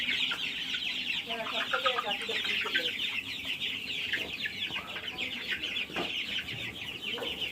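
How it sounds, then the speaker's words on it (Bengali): Many hens cluck and murmur together in a busy poultry house, a steady chorus of bird calls with occasional sharper squawks. "বন্ধুরা, এই যে আমার মুরগির খামার।"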